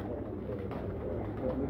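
Dub-type pigeons coo in a low, continuous murmur close by, the soft rolling calls overlapping through a short stretch with no voices.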